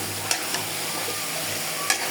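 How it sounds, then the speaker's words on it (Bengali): Washed plantain pieces being fried and stirred with spices in a pan for a fish curry, a steady close sizzle with a few faint scrapes of the spoon; no voices. "ভালো করে মশলা কষিয়ে নেব।"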